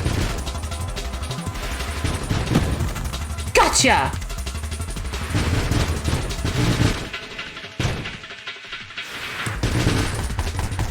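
Missiles fire and explode in a video game as dense, loud bursts of rapid blasts and crashes. A voice briefly exclaims over the barrage.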